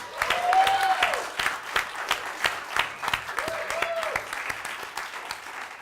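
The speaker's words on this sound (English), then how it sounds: "Give them a big round of applause." Audience at a live variety show applauds two guests, Mike Sanders and Dylan Friesen, with a steady roomful of clapping lasting several seconds, a few sustained tones and stray voices mixed in.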